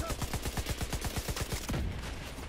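A mounted gun in a shooter game fires a rapid, evenly spaced burst of about a dozen heavy shots, then stops abruptly with a final thump, loud and close, with no talk.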